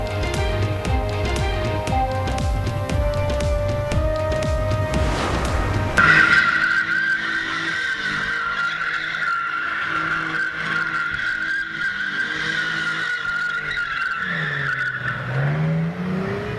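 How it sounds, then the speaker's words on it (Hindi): Cars drifting on Jinnah Avenue, a main city intersection in Islamabad, with tyres skidding and squealing over steady engine roar, heard as a continuous loud stretch with a pitched screech rising in the second half. "इस्लामाबाद में जिना एवेन्यू पर कार ड्रिफ्टिंग"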